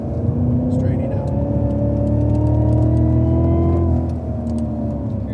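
A Cadillac CTS-V on a race track roars loudly from inside the cabin as it brakes, its engine note sliding lower before a downshift changes the pitch near the end.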